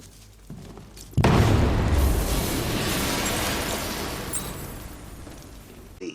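A loud explosion from a detonation in a Batman film bursts in after a brief lull, followed by a long, dense rumbling roar that sustains for several seconds without speech.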